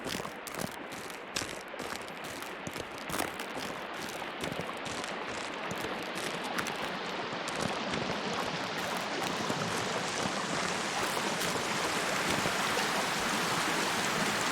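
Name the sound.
waterfall in the video game Sons of the Forest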